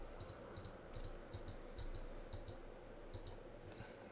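Faint, evenly spaced mouse clicks at a computer running PLC simulator software, several light ticks in a loose rhythm over a low background hum, no talking.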